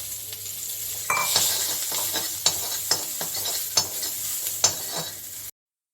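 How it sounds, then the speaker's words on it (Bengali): Neem leaves frying in hot oil for a Chaitra Sankranti lunch, with a steady close sizzle and a few sharp clinks of a spoon stirring the pan, and no talk. "ওই তেলে আমি নিম পাতাটাকে ভেজে নিয়েছি"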